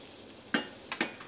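Shallots cooking in melted fat in a pan, a steady quiet sizzle with a few brief scraping stirs standing out near the middle.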